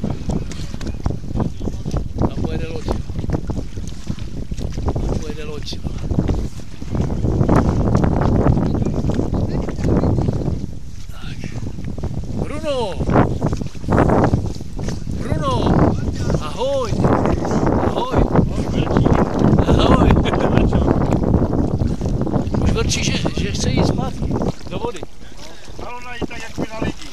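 A boat's engine drones past on open water, swelling and fading amid gusty wind buffeting the microphone, with a person talking intermittently over it.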